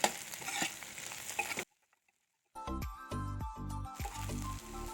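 Chopped coriander leaves get stirred into fried Assamese anguli pitha in a pan, a close scraping and gentle sizzle that stops briefly, then resumes with rhythmic stirring strokes.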